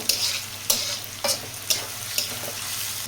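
Onions frying in a pan for a Bengali dried loitta fish curry, a steady close sizzle broken by about five sharp stirring scrapes at regular intervals, with no voices.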